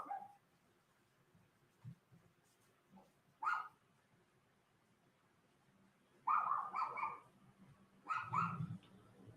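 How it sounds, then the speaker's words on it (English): A small dog barks in short separate bursts, a few sharp yaps spread across several quiet seconds, clear and moderately near with no speech over it. "Listen to that little dog."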